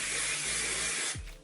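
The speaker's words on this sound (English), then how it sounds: "I like to spray it." Texturing hair spray sprayed onto hair: a loud, continuous close-up hiss that holds steady for about a second, then cuts off with a faint click.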